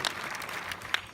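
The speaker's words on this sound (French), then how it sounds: "je vous demande d'applaudir Kev Adams" An audience applauds Kev Adams at a film premiere in a cinema hall, a dense, fairly loud wash of clapping throughout the short moment.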